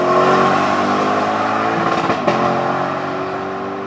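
A Lexus LC500's naturally aspirated V8 engine at speed, a steady, moderately loud car drone with a slight pitch shift partway through, alone with no talk.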